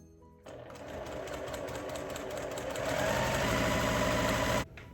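A sewing machine runs steadily for several seconds, stitching quilt block pieces along the diagonal, with a close, continuous motor whir and rapid needle chatter that builds slightly before stopping abruptly.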